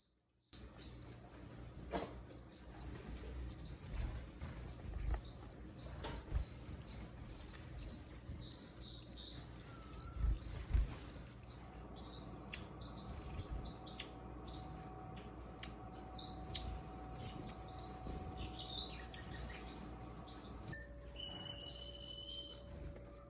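Strawberry finches and other finches chirp in an aviary, a steady stream of bright, busy tweets and short calls overlapping throughout, fairly close, with a faint low hum underneath and no voices.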